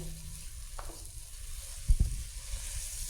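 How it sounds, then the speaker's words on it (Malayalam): Rice stirred and fried in ghee for a Malabar chicken biryani gives a soft, steady sizzle, with a couple of dull stirring knocks near the middle. "നമുക്ക് നല്ലൊരു സൗണ്ട് കേൾക്കാം ഇതിൽ അരി ഇളക്കുമ്പോൾ"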